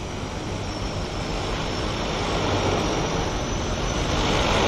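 A Cessna Caravan floatplane coming in low over Vancouver Harbour to land, a steady broad engine and propeller roar that builds slightly louder as it nears, with no talk.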